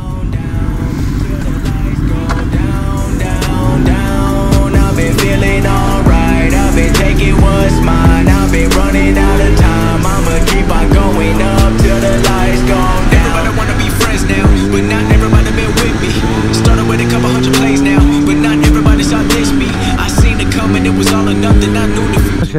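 A motorcycle with clip-on handlebars running on a wet race track, its loud engine droning up and down through the gears with rising and falling pitch, steady and close throughout.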